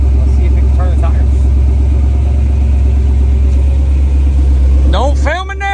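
A junkyard big-block Chevy engine in a mega truck drones loudly and steadily near the microphone, with voices speaking over it throughout.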